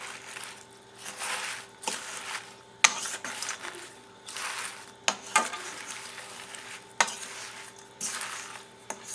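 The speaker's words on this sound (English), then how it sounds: "I'm going to stir mine lightly" A strawberry spinach salad is lightly stirred and tossed in a bowl, with soft rustling sweeps roughly every second and occasional sharp utensil clicks, close and fairly quiet with no talking.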